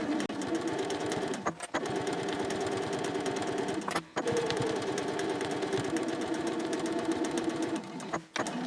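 A sewing machine stitches a fabric basket in steady, rapid runs, close and continuous, broken by three brief pauses between bursts of stitching.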